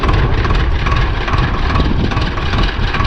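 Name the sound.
tractor engine revving while stuck in a field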